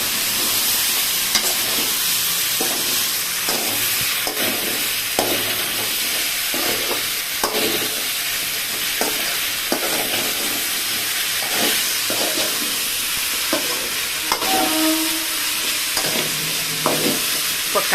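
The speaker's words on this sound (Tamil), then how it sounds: "நல்லா வதங்கட்டும்" Mango pieces sizzle steadily in a hot pan while a spoon stirs them, scraping and clattering at irregular intervals over a constant frying hiss.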